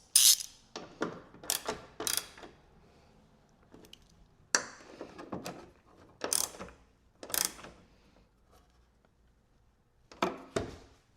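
Ratchet clicks in scattered short bursts as two 10mm bolts are tightened on a truck bed stiffener, fairly quiet and close, with pauses between strokes.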